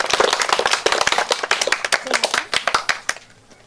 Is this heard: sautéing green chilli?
no